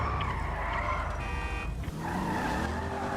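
A car in GTA 5 drives with a continuous revving engine and a squeal of skidding tyres midway, loud and steady with no talking.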